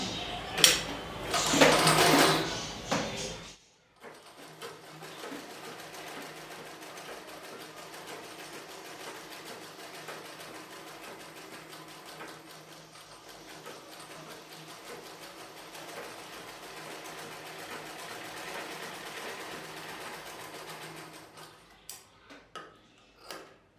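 A sewing machine stitches a cross-cut piping strip onto the top side of a blouse piece, running as a steady, close mechanical whir for most of the clip after a brief louder burst at the start.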